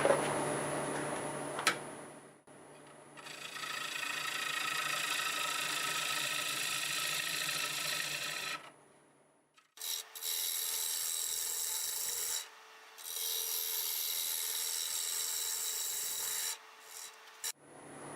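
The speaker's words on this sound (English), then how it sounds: "So I'm going to use my 1/2-inch bowl gouge. And we've got about 800 RPMs now." A 1/2-inch bowl gouge cuts a maple bowl on a wood lathe spinning at about 800 RPM. Long, steady rasping passes stop and restart, separated by brief quiet gaps, close up with no speech.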